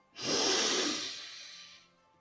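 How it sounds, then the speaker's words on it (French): A single long, deep exhale during a guided meditation, a soft breathy hiss swelling quickly then fading slowly over about two seconds, close and alone. "Expire très profondément. Écoute ta respiration."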